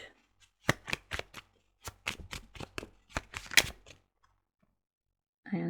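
A deck of druid oracle cards is shuffled up close in quick bursts of crisp riffling flicks. A short pause follows before a voice begins speaking at the end.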